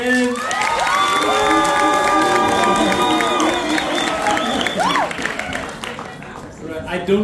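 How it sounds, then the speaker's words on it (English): A festival audience cheers and shouts, a loud steady crowd roar with whoops and scattered clapping for panelists, plus overlapping voices throughout, easing slightly toward the end. "Round of applause for the panelists again."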